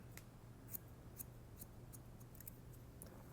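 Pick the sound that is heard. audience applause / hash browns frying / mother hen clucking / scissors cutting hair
scissors cutting hair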